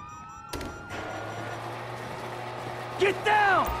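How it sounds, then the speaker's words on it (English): Police sirens wail in Grand Theft Auto V, rising and falling tones close by amid game noise and a low engine hum, with a sharper siren sweep near the end. "you hear that? Sirens"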